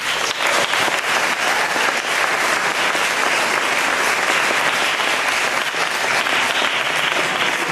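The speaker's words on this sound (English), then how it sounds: "we should probably all clap for the people behind the scenes" Audience applause at a Face Off panel at IMATS Los Angeles, a dense, steady roar of clapping from a large crowd, sustained evenly throughout.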